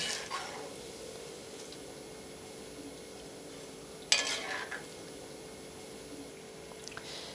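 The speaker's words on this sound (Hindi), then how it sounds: "ये देखिए अब इसे चलाते हुए अच्छे से हम गोल्डन होने तक फ्राई कर लेते हैं मीडियम फ्लेम पर" Potato pakoras deep-fry over a medium flame as they are stirred, giving a quiet, even bubbling hiss throughout, with one brief metallic clatter midway.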